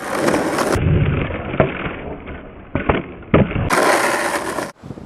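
A skateboard switch ollie rings out with a sharp tail pop and a hard board landing, set among rolling wheel rumble and scattered clacks; the hits are close and loud, with no voice over them.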